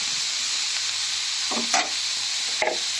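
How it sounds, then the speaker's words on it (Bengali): Salt stirred into bottle gourd and prawns frying in a pan, with a steady sizzle throughout and two short scraping strokes of the spoon near the end. "এর মধ্যে আমি নুনটাও দিয়ে দেবো। ভালো করে মিশিয়ে নেবেন।"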